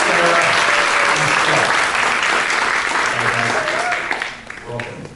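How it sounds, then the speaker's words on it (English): A conference audience gives a big, steady round of applause as panelists come onto the stage, with a few voices mixed in, before the clapping thins out near the end. "Big round of applause"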